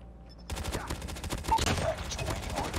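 Rapid sustained fire from a Pharo gun in Call of Duty Mobile, a dense stream of shots starting abruptly after a brief quiet moment and running steadily to the end, close and fairly loud.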